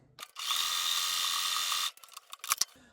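A home sewing machine zigzag stitching around the collar of a towel hoodie poncho, one steady close whirring run of about a second and a half, followed by a few brief clicks and handling sounds.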